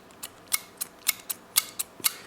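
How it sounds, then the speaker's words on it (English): A Smith & Wesson folding karambit knife with an urban camo finish makes a scissor-like scraping as its blade rubs. The slicing swishes repeat roughly every quarter second, close and crisp, with no other sound between them. "You notice that it sounds like a pair of scissors,"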